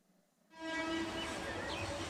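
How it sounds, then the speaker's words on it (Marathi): A train rumbles past a railway station, rising suddenly from quiet to a steady loud roar with harmonic tones and a brief whistle-like squeal on top, continuing without speech. "ह्याला ट्रेन सुद्धा चालते आहे"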